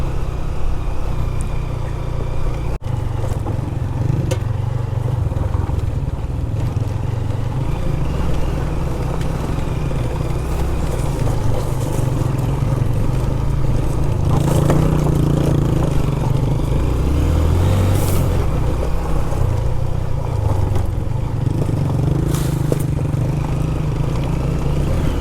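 A motorcycle grinds along a slippery, rocky mountain track near Khuzdar, its engine droning loud and close with revving surges and rumbling strain as the bike bogs into smooth stones, continuous throughout.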